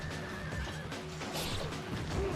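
A horse neighs in a video game, joined by in-game crashing and hoof sounds, heard fairly faintly under the game's action.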